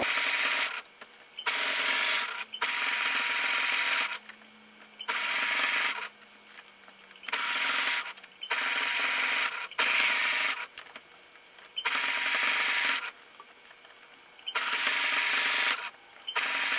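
A sewing machine stitches along the edge of a bib apron in repeated bursts of about one to two seconds, with brief pauses in between. The whirring is steady and close, and no one speaks.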